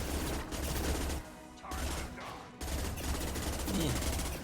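Submachine gun fire in the Mass Effect video game, rapid bursts of automatic shots with an interrupted rhythm, loud and dense, heard alone over battle noise.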